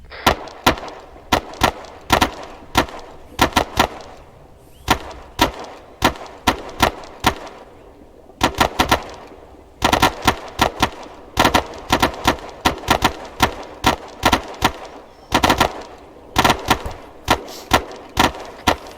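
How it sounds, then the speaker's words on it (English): Rapid gunfire in the military game Arma 3, loud bursts and single shots from several weapons in quick irregular clusters, sustained through the whole stretch with brief pauses between volleys. "Rapid fire."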